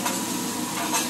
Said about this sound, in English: he chopping that rice up